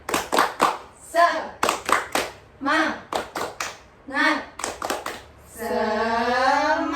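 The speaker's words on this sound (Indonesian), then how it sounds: "Oke, kita tepuk semangat." Children in a classroom perform the tepuk semangat clapping chant, sharp rhythmic hand claps in patterned groups alternating with chanted voices, ending in a drawn-out shout.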